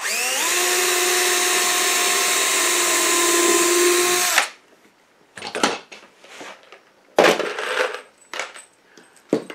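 A power drill drives 1½-inch exterior Torx screws into the wood of a bluebird house, a loud, sustained whine of about four seconds followed by scattered knocks and rattles as the work is handled.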